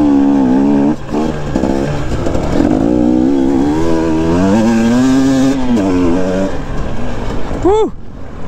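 A KTM 250 EXC two-stroke dirt bike climbs a hill, its engine loud and close with rising and falling revs that strain steadily, briefly dipping before pulling hard again toward the top.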